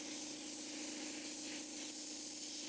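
Baking soda blasting cleans the parts of a Champion 400 forge blower, a steady, unbroken rushing hiss of compressed air and media that stays loud and close throughout, with no voices.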